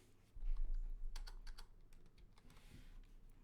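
Computer keyboard keys clatter in an irregular run of quick taps as code is typed for a React project, close and moderately loud, with no talking.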